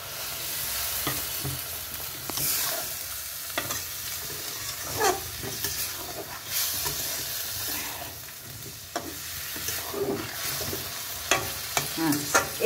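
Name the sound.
okra frying in pan after sprinkling water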